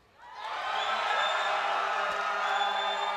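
A live esports crowd at an IPL 5 match erupts into cheering and whooping for Meat Playground, swelling quickly and holding loud and dense throughout.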